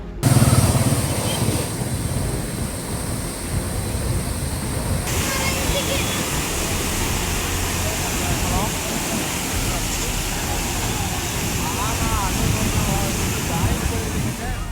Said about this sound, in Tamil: ராட்சத குழாயில் உடைப்பு ஏற்பட்டதால் பூமிக்கடியிலிருந்து சுமார் 50 அடி உயரத்திற்கு குடிநீர் பீரிட்டு வெளியேறியது